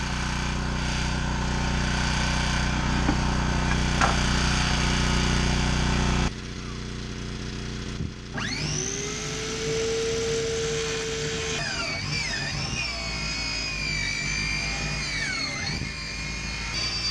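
A circular saw run off a generator spins up and rips lengthwise through wooden boards for board-and-batten trim, its dull blade whining steadily and wavering as it cuts, over a constant engine drone.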